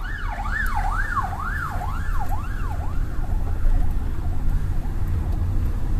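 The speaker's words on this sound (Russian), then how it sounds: "Так, летит скорая. Скорую пропускаем." A wailing ambulance siren sweeps up and down repeatedly, loud at first and gradually fading as it passes, over low traffic rumble, heard from a taxi in Kharkiv.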